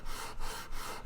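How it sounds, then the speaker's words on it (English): Sandpaper rubs back and forth over guitar wood in three even strokes, a close, loud, raspy scratching with a steady rhythm. "hasn't had the sweet sound of sanding for a while."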